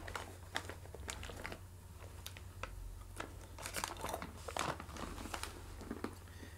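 A resealable snack bag of power clusters being handled: repeated crisp plastic crinkles and rustles in irregular bursts, close and fairly quiet, over a low steady hum.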